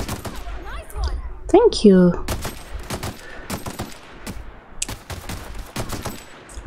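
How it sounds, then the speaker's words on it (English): Rapid machine gun bursts from The Outer Worlds video game crackle in sharp clusters, mixed with other game effects while a person talks over the fire. "I don't know how confident I feel using the machine gun."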